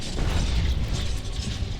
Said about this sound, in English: the walking bomb explosion is surprisingly gory